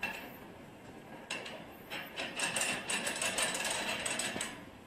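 A part is tightened during installation of a 360 Cryo X3 unit, with a scatter of close, light mechanical clicks and small clinks that grow busier toward the middle, with no voices.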